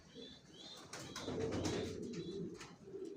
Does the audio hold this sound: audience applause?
no